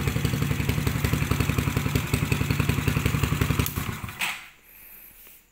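A mini 50cc motorcycle engine, a handmade Honda Gorilla replica, idles with a fast, steady putter, loud and close, then cuts off abruptly, leaving faint background noise.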